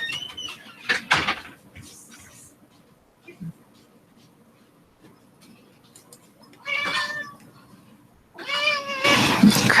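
A cat meows repeatedly with harmonic, wavering cries, loudest near the end, while a person nearby murmurs and coaxes it in between.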